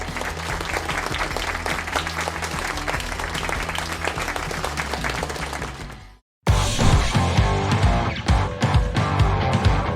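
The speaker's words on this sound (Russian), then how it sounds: "Ура, ура, аплодисменты!" Loud, dense crowd applause rolls on steadily, breaks off into a brief silence, then resumes just as strongly with sharp individual claps standing out.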